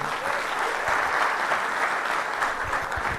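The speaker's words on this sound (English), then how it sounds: "a big round of applause to Professor" An audience applauds a visiting professor after his talk at a business school event, a continuous, even roar of many hands clapping at moderate distance, with no voices on top.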